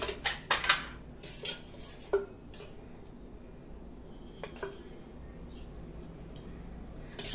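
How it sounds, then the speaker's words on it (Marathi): A metal kadhai set on a gas stove for a tempering clanks and rattles a few times up close, then a quiet kitchen hush follows with faint scattered taps. "आता आपण कढई ठेवणार आहोत गॅसवर."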